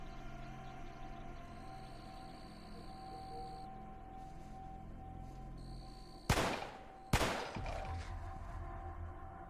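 Two sharp gunshot bursts in the game Cataclysm: Dark Days Ahead, a loud crack and then another about a second later, each trailing off, over a quiet steady background hum with no speech.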